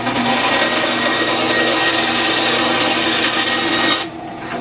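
A Wen 3.5 amp 10-inch band saw cuts through wood, a loud continuous rasping buzz of the blade biting the board for four seconds, then easing off as the cut finishes.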